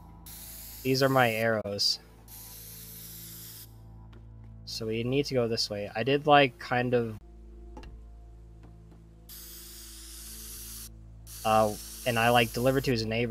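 Spray paint hissing from a can in the video game Teardown, several bursts of sustained hiss of about a second or more each, separated by pauses, with someone talking between and over the bursts.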